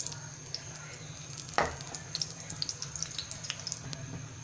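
Ghee melts in a hot pan before shami kababs go in, crackling with scattered sharp pops and spits over a low steady hiss, with one louder knock partway through and no talking.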